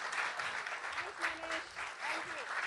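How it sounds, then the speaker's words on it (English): Applause from an audience after a stage performance at a book event: steady dense clapping that fills the whole stretch, with faint voices under it. "Let's have a huge round of applause for such a fantabulous performance out here."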